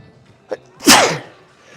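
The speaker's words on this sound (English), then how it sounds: "I'm about to sneeze." A single sharp, loud sneeze bursts out close by during an arm-day gym workout, preceded by a quick sharp inhale.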